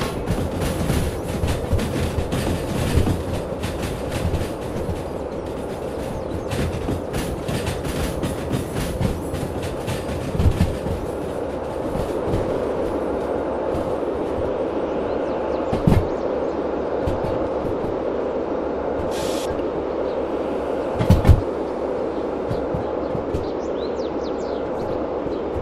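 Train wagons roll along rails in the game Derail Valley, a steady rumbling clatter of wheels over track joints with occasional sharper clanks and squeals, continuous and fairly close, with no talk.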